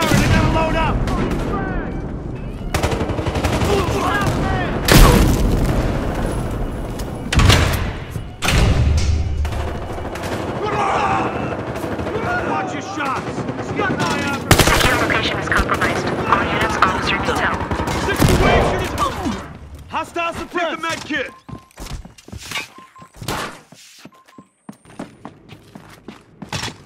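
Rapid bursts of gunfire and heavy booms from a Battlefield Hardline shootout, with near and distant shots overlapping for most of the stretch while players shout over the din, thinning toward the end.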